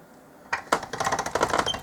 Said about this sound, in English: I'm rolling it on the thickest setting on my pasta machine